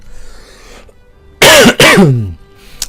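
Two harsh coughs in quick succession, loud and close, after a stretch of quiet room tone.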